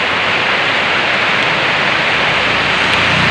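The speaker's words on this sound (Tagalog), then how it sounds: "Palakasin ng palakas ang ulan guys oh" Dense, steady hiss of heavy typhoon rain pours down without pause, loud and close, holding constant throughout.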